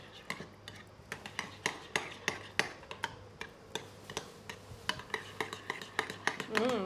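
A spoon stirs a dip for zucchini fries in a bowl, mixed with lime and dill. It makes a steady run of light, close clinks and taps against the dish.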